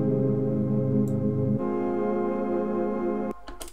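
A sustained synth bass line under an automated parametric EQ, its low end cut back and then shifting in tone partway through, with a brief higher click near the end.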